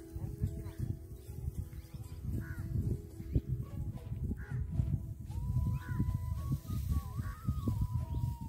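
A crow caws outdoors on a farm, several harsh calls repeating over a busy low background with other birds faintly chirping.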